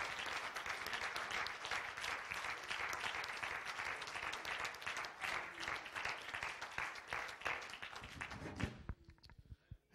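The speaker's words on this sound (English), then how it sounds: "won't you give God a hand clap of praise?" A church congregation claps in praise, sustained dense applause with some rhythmic clapping mixed in, heard from a distance at low level, then tapering off abruptly near the end.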